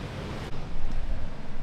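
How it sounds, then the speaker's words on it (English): Ocean surf breaking at Rocky Point on Hawaii's North Shore, a steady broadband wash of waves and wind noise that swells slightly louder midway through, with no talking. "there's definitely some waves"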